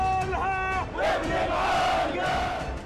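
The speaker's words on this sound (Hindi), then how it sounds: "इजरायल के खिलाफ नारेबाजी शुरू हो गई" A large crowd chants slogans at a street protest in Amman, Jordan, many voices shouting loudly together in rising, rhythmic bursts that fill the whole clip.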